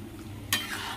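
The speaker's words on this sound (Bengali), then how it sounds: "এই মটর সেদ্ধটা এবার ঢেলে দেবো।" Boiled peas tipped into a hot pan of spiced masala for ghugni: a quiet low hum, then a sudden bright splash-like burst at the midpoint that settles into a steady sizzle.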